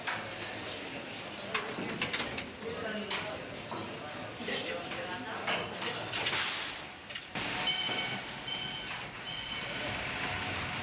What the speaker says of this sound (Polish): Do dalej położonych oddziałów górnicy dowożeni są pociągami osobowymi.